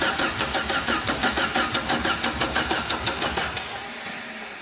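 A car engine cranks with a rapid, even rhythmic chugging as it is turned over but does not catch, its ignition timing out of adjustment; the cranking fades slightly near the end with no voices.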